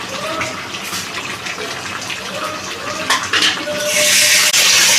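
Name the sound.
pouring blender rinse water into cooking pan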